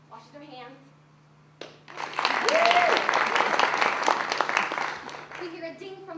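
Patrons applaud during a staged theatre performance. After a faint voice and a quiet pause, a burst of dense, steady clapping starts suddenly and continues to the end.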